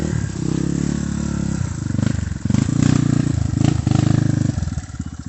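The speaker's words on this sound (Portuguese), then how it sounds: "Ô Thiago, monta na moto, pô." A motorcycle engine runs loud and close, idling with a steady throb and a couple of bursts of revving midway.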